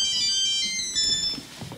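A mobile phone ringtone plays during an amateur stage play, a bright repeating electronic melody heard clearly at moderate loudness, with faint low room noise beneath it.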